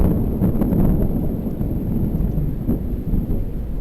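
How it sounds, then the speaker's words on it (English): Thunder rumbles low and steady through a rainy storm in the woods, mixed with wind buffeting the microphone. It is continuous and heavy, with no voices. "Thunder's pretty strong right now"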